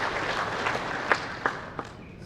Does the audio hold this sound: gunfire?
no